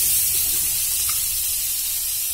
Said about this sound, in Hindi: उसके बाद हम इसमें डालेंगे प्याज